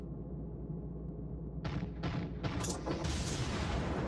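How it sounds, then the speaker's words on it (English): Murmansk cruiser in World of Warships firing a gun salvo, several heavy booming shots in quick succession over a steady low engine and sea rumble, loud and close. "I fire a salvo at that battleship"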